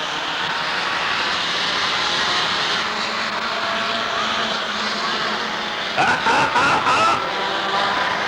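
A pack of stock cars racing three wide at Rockford Speedway on a 1994 championship night, a loud, continuous engine roar filling the track, swelling briefly near the end.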